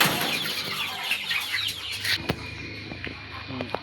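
Chickens cluck and squawk in a morning feeding alongside ducks, a close, busy cluster of calls with some wing flapping and light knocks, heard without talk.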